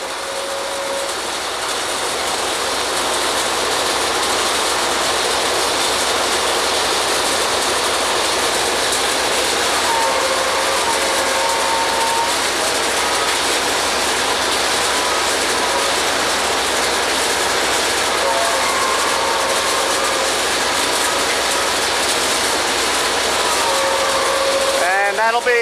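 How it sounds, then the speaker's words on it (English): A drilling rig at a well site winching up the next length of drill pipe, a loud, steady mechanical roar and rumble with faint tonal whines that runs unbroken throughout. "There they're pulling up the next piece of pipe"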